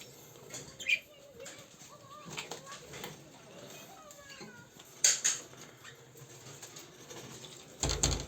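Budgerigars and cockatiels shift and rustle in their cages on a balcony in the evening, giving soft scattered chirps and a few brief wing flaps, with a person talking quietly throughout.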